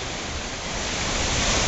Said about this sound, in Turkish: şelale burası